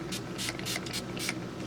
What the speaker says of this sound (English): going with my Urban Decay All Nighter setting spray and just spray it all down